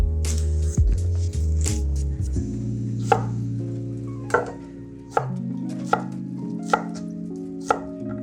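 Knife chopping onions on a board, a steady series of sharp close taps after a few rougher cuts, heard alone with no talking.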